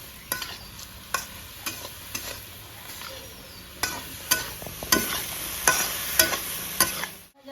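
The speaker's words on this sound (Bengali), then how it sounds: "এই পেঁয়াজ কলিগুলো আমি কেটে ধুয়ে রেডি করে রেখে দিয়েছি, ঢেলে দেবো। একটু নাড়াচাড়া করে নেব।" Chopped, washed spring onion stalks tipped into a hot pan and stirred in a home kitchen, with a soft sizzle under repeated sharp scrapes and knocks of the spatula against the pan.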